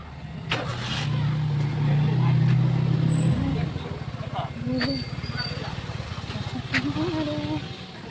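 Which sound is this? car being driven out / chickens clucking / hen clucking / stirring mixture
car being driven out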